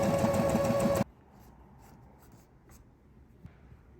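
Sewing machine running basting stitches to gather the bottom of a shirt, a loud rapid whirring burst for about a second that stops abruptly, leaving faint quiet handling sounds.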